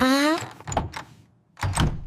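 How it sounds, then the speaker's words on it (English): A voice speaks briefly, then a house door is locked with a few short, close clunks and clicks spread across about a second, followed by quiet. "This time, let me lock the door for you."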